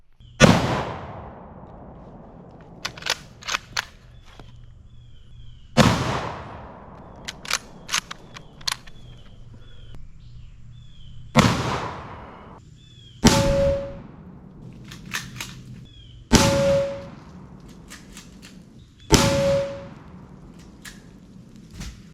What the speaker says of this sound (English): we will be using a bolt-action M44 carbine